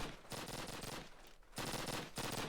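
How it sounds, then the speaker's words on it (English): PPSh submachine gun bursts in a Call of Duty match, rapid sustained automatic fire in three long bursts broken by short pauses, close and dense. "This is a full-on PPSH rush by the look of it."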